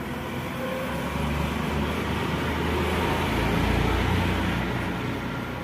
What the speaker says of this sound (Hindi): शायद गाड़ी आ रहा है